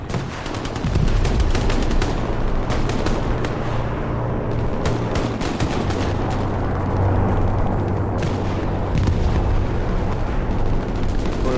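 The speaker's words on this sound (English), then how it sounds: "That was a strafing run, bombing run coming into clear in the south side of Point" Video game strafing and bombing run in a competitive match, dense rapid gunfire and booming explosions rolling continuously and loudly.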